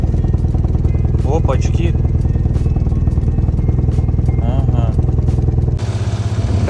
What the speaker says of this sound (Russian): Прям двигатель трясет немножко, на самом деле, как будто один цилиндр вообще не работает у нас.